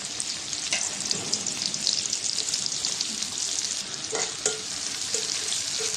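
Chopped onion frying in oil in a wok, a continuous close sizzle with a few light scraping stirs of a utensil against the pan.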